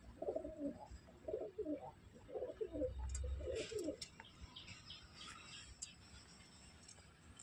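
Siraji pigeons coo softly in short throaty bursts, several calls in quick succession at close range, over faint background noise and a few brief sharper chirps.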